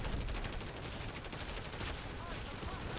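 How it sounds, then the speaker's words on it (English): Rapid automatic gunfire in the online shooter game Planetside 2, a dense continuous crackle of shots lasting the whole stretch, loud and busy with a voice faintly underneath. "How many times do I have to shoot somebody before they die?"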